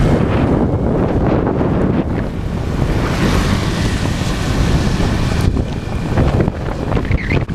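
Heavy rain and gusting wind battering a rider on the road from Hoi An to Danang, a loud, constant roaring rush with wind buffeting the microphone throughout and no voices.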